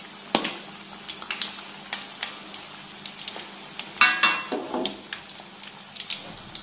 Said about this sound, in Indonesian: Tadi saya goreng-goreng sampai beberapa kali